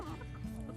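A layer hen named Cherry clucks in short, steady bursts from her nesting box, close by, over a low background hum.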